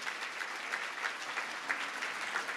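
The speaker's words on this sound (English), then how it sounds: "So please give them a round of applause as well." Audience applause at the 2015 Women of Innovation awards event, a dense, steady patter of many hands clapping at moderate distance, continuous and without voices.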